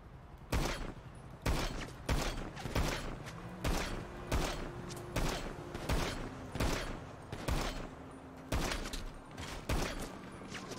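Video game gunfire from a GTA roleplay shootout with police: a fast string of sharp, booming shots, clustered in bursts and single cracks across the whole stretch, with a faint mechanical creak underneath.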